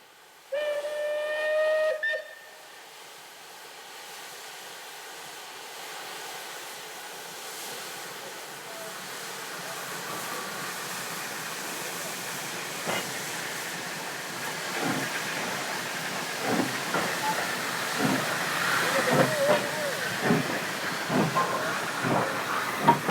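Wood-burning steam locomotive No. 226 in Paraguay sounds a sharp whistle, then hisses and chuffs as it hauls two wagons up a grade, with rhythmic clanks and wheel thuds that grow louder.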